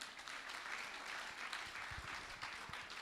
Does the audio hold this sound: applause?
yes